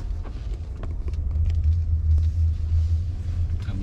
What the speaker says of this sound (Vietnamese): chỉ có tiếng ồn từ lốp lên thôi